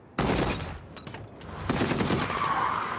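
Rapid warning gunfire aimed at an approaching car in a TV war drama, a sharp loud volley opening the moment, then a second burst and sustained shots.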